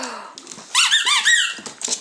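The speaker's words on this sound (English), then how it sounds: "She likes the ones that squeak." A squeaky dog toy gives a quick run of high, rubbery squeaks in rapid bursts, loud and close, with some quieter squeaks before and after.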